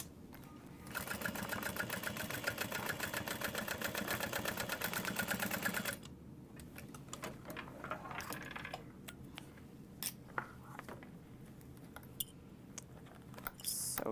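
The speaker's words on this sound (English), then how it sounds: "she does have you add 2 rows of stitching" Sewing machine running steadily for several seconds while stitching rows on a mini backpack, then stopping, followed by quieter handling clicks and rustles.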